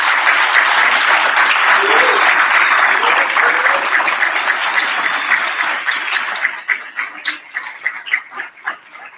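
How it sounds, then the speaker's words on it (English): Audience at a business meeting breaking into loud, sustained applause that holds steady for several seconds, then thins into scattered individual claps as it fades. "I just want to just have a round of applause for the conference planning committee."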